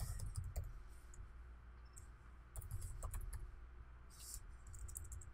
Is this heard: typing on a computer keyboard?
yes